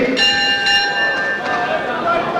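A ringing bell in a boxing arena, marking the start of round 8 between Cristanto Espana and Rodolfo Aguilar, sounds with sustained metallic tones and a couple of repeated strikes over crowd and commentary noise.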